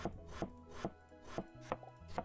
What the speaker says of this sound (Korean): 깍둑 썰기 해볼게요.